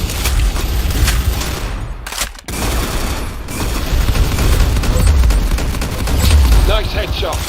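Dense, loud video game gunfire rattles in rapid bursts, with a brief break near the middle before the volley resumes, a headshot landing amid the continuous firing.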